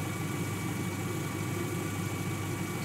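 A 1997-2001 Honda CR-V engine idles steadily nearby while still cold, a constant low hum and rattle with no change in speed.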